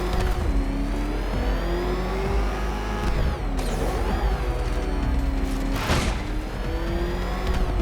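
The Batmobile's engine in Batman Arkham Knight revs and accelerates in rising and falling whines, loud and continuous, with sharp mechanical bursts and a big surge near the end.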